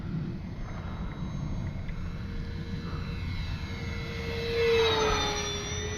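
An Arrows RC Skycruiser model airplane flies overhead, its motor a steady whine with a rising, louder pass near the end as it comes closer, with no talk.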